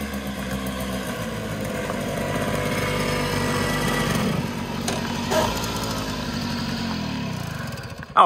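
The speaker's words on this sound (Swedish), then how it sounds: "Ja, här kommer ni på mopeder." Mopeds roll up for a Swedish moped rally, their small engines running steadily and close by for several seconds. A sharp louder burst comes right at the end.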